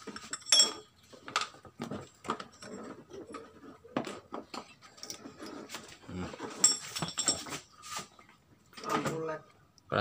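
Small metal parts clink and tap while the vacuum assembly is taken off a Honda Vario scooter carburetor, in scattered close-up clatters and knocks at low level, with a few short bursts of handling noise.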